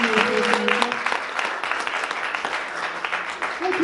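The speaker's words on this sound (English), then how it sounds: "give a round of applause for our musicians and their beautiful performance this evening" An audience at an evening community ideas event applauds the musicians after their performance, a dense, steady patter of many hands clapping throughout, with a voice briefly audible at the start and end.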